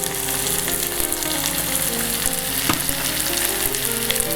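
Carrots hit a hot frying pan and sizzle loudly and continuously up close, with faint stirring scrapes and small crackles throughout.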